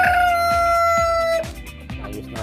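A rooster among breeder chickens crows one long, loud cock-a-doodle-doo close by, then trails off into softer clucking and farmyard noise.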